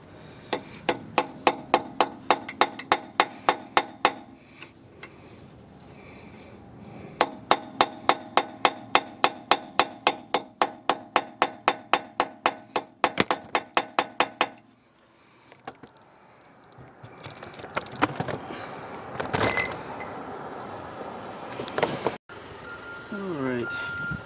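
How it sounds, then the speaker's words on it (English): Hammer strikes on a chisel, freeing a stuck rear brake part on a 2015 Jeep Cherokee, ring out in two fast runs of sharp metallic blows. A rattling clatter of loosened metal and some handling noise follow. "So I'll be using chisel."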